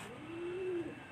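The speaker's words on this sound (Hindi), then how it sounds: "ये बिल्कुल छोटी जिसामत के कबूतर हैं।" Small pigeons with fine, slender orange feet give one soft, drawn-out coo, close and clear above a quiet background.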